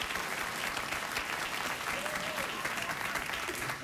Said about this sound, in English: Oh, spontaneous, not chicken-related applause.